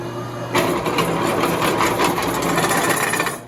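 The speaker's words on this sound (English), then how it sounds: "Just doing a little precision drilling here" A drill whirs steadily at high speed for about three seconds, a gritty, buzzing grind close by while drilling metal on a lawnmower bike build, starting abruptly and then winding down.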